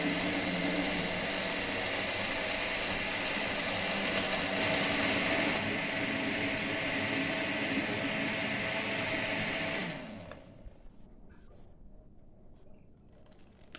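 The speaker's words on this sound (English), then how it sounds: "So you are going to blend it until it is smooth," An electric blender purees Malaysian sambal paste with shrimp paste and water. Its loud, steady motor whir runs for about ten seconds, then stops, leaving a faint room background.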